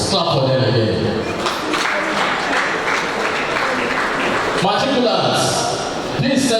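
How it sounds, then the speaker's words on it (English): Dense, sustained applause from a large audience at a university matriculation ceremony, loud and continuous throughout with some cheering mixed in. "Clap for them again."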